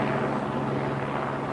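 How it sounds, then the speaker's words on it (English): A police helicopter hovering over a railway line in Wales makes a steady, dense rotor and engine roar that stays loud and unbroken throughout. "the helicopter still has them in its sights"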